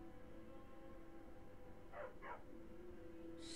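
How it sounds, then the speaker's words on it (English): A dog in the video game Skyrim gives two quick, faint barks close together over a steady hum of game music and ambience. "Stupid dog."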